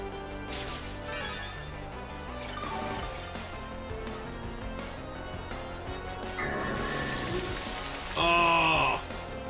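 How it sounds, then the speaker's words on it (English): Rain falls in Pokemon Violet during a battle on Victory Road at the Pokemon League, a steady soft patter mixed under game music and battle effects, with a brighter jingle near the end. "Started to rain."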